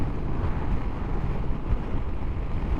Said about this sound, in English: Very blustery.